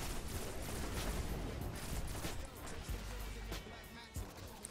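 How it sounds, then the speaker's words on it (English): Dense gunfire fills a Destiny multiplayer match: rapid, overlapping shots and bursts crackle continuously at close range, loud throughout. Voices can be heard under the shooting. "Why are you all shooting me?"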